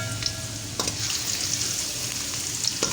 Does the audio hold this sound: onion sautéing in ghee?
yes